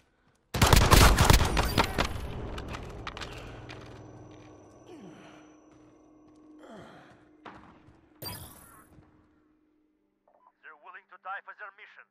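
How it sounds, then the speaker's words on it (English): Heavy gunfire in the Call of Duty Modern Warfare video game opens with a loud rapid burst that decays into distant echoes, followed by scattered shots, a radio voice and brief spoken lines. "I'm taking fire!"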